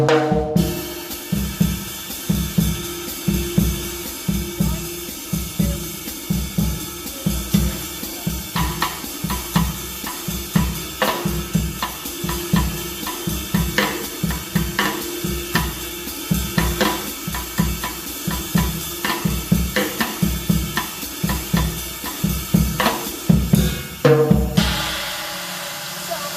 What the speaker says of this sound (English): I'm going to do rim clicks instead of playing on the snare drum